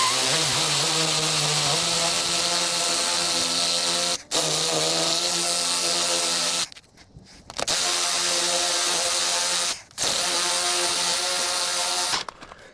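A power tool with a 16mm socket driving in a bolt while mounting an antenna bracket, loud whirring bursts with rising pitch, cut by brief stops and two short gaps, no voices.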